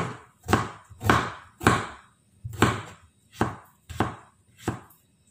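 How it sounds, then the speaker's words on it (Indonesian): A knife chops fresh ginger into small pieces on a cutting board in eight sharp, evenly spaced strokes, close and clear with no talking. "kita potong kecil-kecil aja. Ini jahe"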